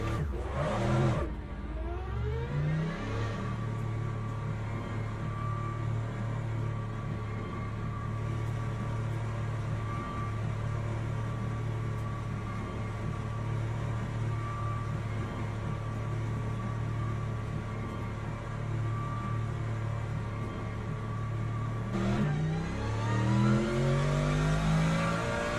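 A race car engine in iRacing sim racing drones at a steady high pitch, with revving sweeps near the start and again near the end.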